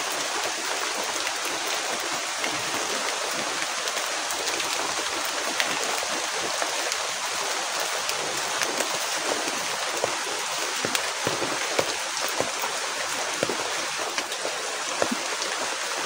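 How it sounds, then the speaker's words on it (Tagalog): Heavy rain pours steadily and loudly throughout, a dense constant hiss with scattered drop impacts and no talking. "Grabing ulan guys."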